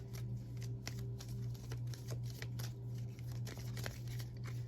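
A deck of tarot cards is shuffled and drawn, giving a run of soft, papery flicks and riffles close up over a steady low hum, with no talking.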